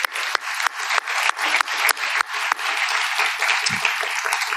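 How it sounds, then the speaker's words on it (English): Audience applause for a conference panel, a steady round of clapping from a sizeable crowd filling the room at even loudness for several seconds, with no talk over it. "let's give a round of applause for our panels"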